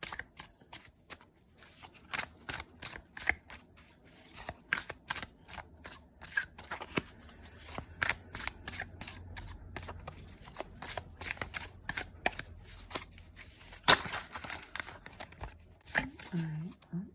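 Oracle cards shuffled by hand in a steady run of quick riffles and flicks, close and fairly quiet, with a short faint voice near the end.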